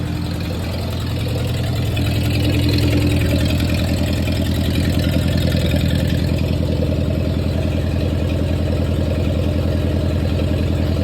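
A 1948 Ford 8N tractor engine that has sat for over ten years runs at a steady idle with its fuel shut off, a loud, continuous low chugging close by.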